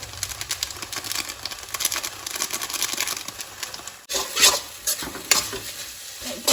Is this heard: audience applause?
no